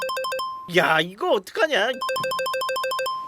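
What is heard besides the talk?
mobile phone ringtone ringing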